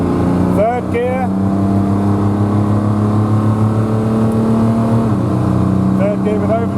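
A Triumph GT6 runs on the motorway in third gear with a steady engine drone and a constant tone that shifts slightly as it goes, while a voice talks briefly over it.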